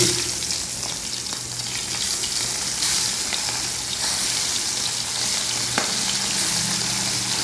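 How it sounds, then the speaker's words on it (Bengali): Gulsha fish laid into hot oil fry with a loud, dense, continuous sizzle and crackle close up, steady throughout with a few sharper pops and no voices. "মাছটা গরম হয়ে গেছে তেল এখন মাছ দিতেছি"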